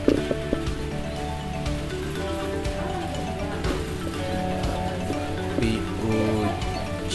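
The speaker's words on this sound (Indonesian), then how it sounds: "udah keburu hujan nih" Rain falling steadily at night in Kutacane, Aceh, a dense continuous patter with no single drops standing out, joined by faint background sounds.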